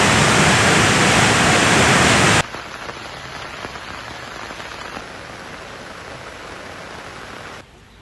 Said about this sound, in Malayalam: കോഴിക്കോട് ജില്ലയുടെ കിഴക്കൻ മലയോര മേഖലയിലാണ് ശക്തമായ മഴ തുടർന്നത്